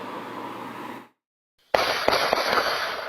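Gunshots striking a house at night, easily mistaken for fireworks: a dull muffled report, a short silence, then a sharp crack followed by a few more snapping pops, fairly faint and distant.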